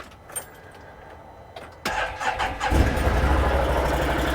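A Can-Am Defender UTV engine cranks and fires up, with a brief starter whir and a click before it catches and settles into a steady close idle. No one talks.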